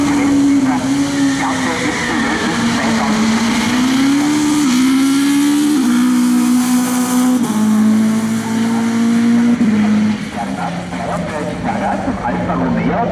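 An Alfa Romeo touring car of about 310 PS races up the Rechberg hill climb, its engine screaming continuously and rising and falling in pitch through gear changes, loud and close, with someone speaking German over it.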